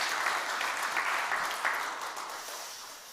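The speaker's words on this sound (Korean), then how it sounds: "우리 큰 박수로 환영합시다" A church congregation claps warmly to welcome new members at a Sunday service. The dense applause is steady, then eases slightly toward the end, with no voices.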